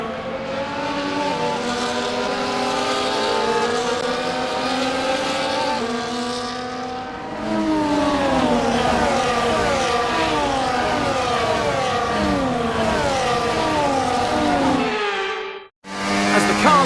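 Formula 1 cars in the F1 2024 racing game on a formation lap at the Dutch circuit, a continuous loud roar of several engines layered together with rising and falling pitch, briefly cutting out near the end.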